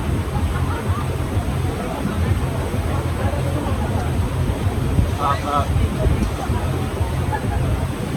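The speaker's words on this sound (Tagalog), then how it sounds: "Medyo mahangin lang here." Steady wind buffeting the microphone outdoors, a continuous low roar with faint background voices.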